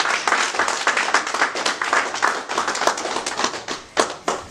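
Rhythmic hand clapping from a church congregation, a dense run of sharp claps that keeps going throughout, with a few louder isolated claps near the end and a faint voice underneath.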